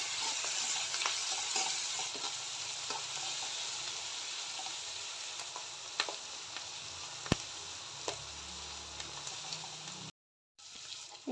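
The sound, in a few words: ingredients frying and being stirred until brown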